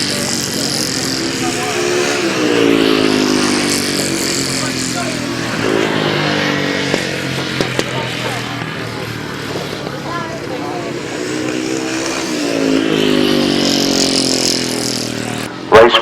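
Sidecar racing motorcycles roar past at speed on a track, engines rising and falling as they sweep through a final bend, with a commentator talking over the loud engine noise throughout.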